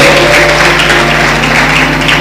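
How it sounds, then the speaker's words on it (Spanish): A church congregation claps continuously in a dense, steady wash of applause, loud and reverberant, with a faint sustained tone underneath. "dale un fuerte aplauso al Rey de la Gloria"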